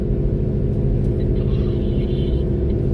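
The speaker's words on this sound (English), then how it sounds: "I'm driving east on 9" A car driving east on highway 9 in Kansas during storm chasing gives a steady, loud low road rumble from inside the cabin, with no talk.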